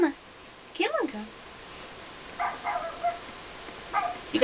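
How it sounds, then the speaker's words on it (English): A dog barks in the video game Rule of Rose, with a few separate short barks and yips spaced apart against a quiet background. "You gotta follow the barks now"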